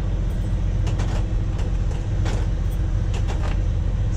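Truck air suspension bags lowering at a diesel pump: a continuous low rumble with several short hissing bursts of air, heard up close with no talking.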